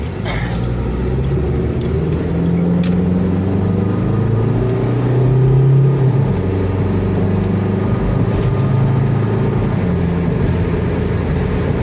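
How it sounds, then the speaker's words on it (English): A 1989 Plymouth Voyager Turbo minivan accelerating on a test drive, its engine drone rising steadily in pitch with the pitch dropping as the transmission shifts, heard from inside the cabin with a steady rumble of road noise. "See, it picks up speed just fine. Transmission shifts great. Turbo works."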